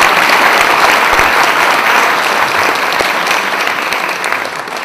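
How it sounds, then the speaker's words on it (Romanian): An audience applauds at a chamber orchestra concert, a loud, dense, sustained ovation of many hands that continues steadily and eases slightly toward the end. "Așadar, aplauze"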